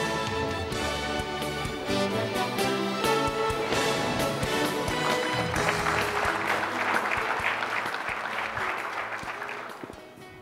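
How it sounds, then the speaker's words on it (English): A conference awards audience breaks into sustained applause, dense, even clapping that rolls on for about ten seconds, swells midway and then tapers off at the end. "let's give a round of applause for all of our finalists and all of the participants"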